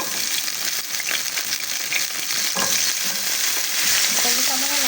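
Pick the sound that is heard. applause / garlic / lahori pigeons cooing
garlic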